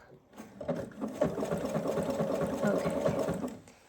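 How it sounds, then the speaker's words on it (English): A sewing machine stitches fabric for a jelly roll gift basket, running close by with a steady, fast mechanical whir that starts, holds for a few seconds, then stops. "I'm gonna sew around this side, and then when I get to this end, I'm gonna do the same thing and leave a handle"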